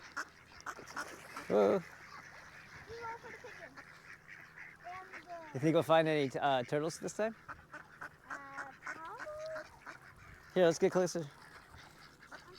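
Ducks and geese honk and quack at each other in loud, ragged bursts nearby, separated by quiet stretches, with people talking softly in between.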